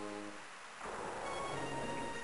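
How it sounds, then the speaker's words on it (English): Steady rain hisses in the background alongside a faint tonal soundtrack from the Pokemon Liquid Crystal game, quiet and continuous. "And it's still raining."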